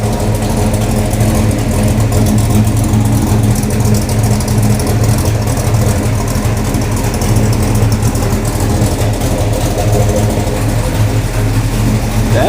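A 1969 Plymouth Barracuda's engine idles loudly and steadily close by, a constant low rumble with no pauses or revving.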